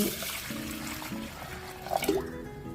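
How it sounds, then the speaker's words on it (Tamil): Water pours briefly into a metal pressure cooker holding moong dal, a short gurgling splash near the mic, with faint low hum in the background. "பாசி பருப்பை குக்கரில் போட்டு கொஞ்சம் தண்ணி ஊற்றி"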